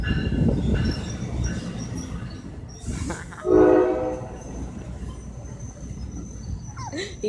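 An NJ Transit train at Raritan station sounds its horn in a short, loud blast partway through, over steady rumbling rail noise and outdoor ambience, with a dog barking faintly.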